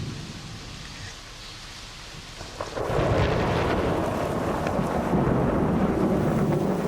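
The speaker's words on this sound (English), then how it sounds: "That's thunder." Low rolling thunder during a Sri Lankan monsoon storm, starting faint and swelling at about three seconds into a loud, sustained rumble mixed with rain noise that continues to the end.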